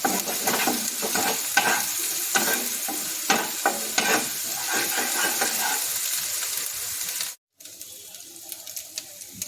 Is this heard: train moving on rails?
no